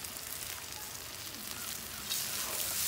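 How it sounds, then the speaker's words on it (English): Onions frying in a pan as the base for pilaf give a steady close sizzle and crackle, brightening toward the end. "And then we will fry this."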